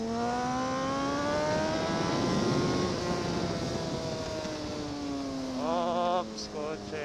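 A car passes on a mountain road while a GSX-R 1000 motorcycle rides uphill. Engine tones rise and then sweep down as it goes by close, over steady wind roar. A brief burst of rising revs comes near the end.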